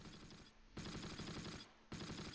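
Bursts of automatic gunfire in the WWII video game Close Combat, set at Eindhoven, rattle in two long rapid volleys separated by a brief gap, sharp and close with no talk.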